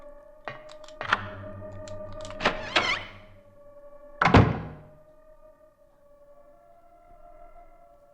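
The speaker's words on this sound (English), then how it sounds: "Just gonna go through this Phaleg door and head back to this Aratron door." Heavy doors opening and closing in the video game Silent Hill, several deep thunks and clanks against a droning low hum, with one louder metallic slam near the middle.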